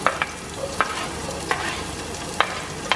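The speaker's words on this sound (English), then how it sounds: "my oil na yan dyan. I'm gonna put the onions right now." Onions going into hot oil for chicken afritada, heard as a low steady sizzle punctuated by sharp intermittent clinks and scrapes of a utensil against the pan, close by, no voices.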